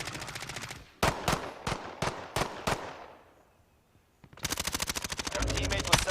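Gunfire in a video game: a burst of loud, sharp shots in a quick rhythm, a pause that fades into quiet, then a rapid automatic volley that runs on to the end.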